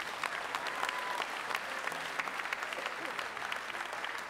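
Steady applause from a concert audience for a singer and dancers at an evening show with an orchestra, dense and continuous at moderate level for several seconds.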